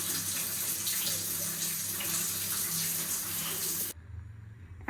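Shower spray running steadily in a home bathroom, a close, even hiss of falling water that cuts off abruptly near the end, leaving a quiet room.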